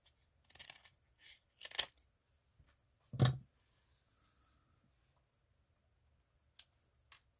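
Scissors snip through a small piece of fabric in a quiet room: a handful of crisp, close cutting clicks in short bursts, followed by a couple of faint ticks.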